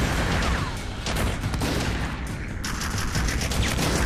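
Heavy gunfire from the PS3 shooter Haze, with dense sustained bursts of automatic weapons and booming shots layered into a loud, continuous barrage that never lets up.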